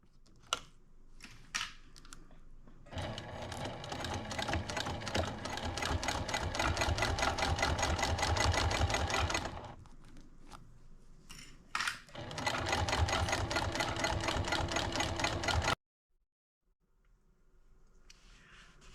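A home sewing machine top stitching around a fabric Christmas potholder runs in steady rapid bursts, stopping and starting several times with short pauses between runs, close and fairly quiet with no talking.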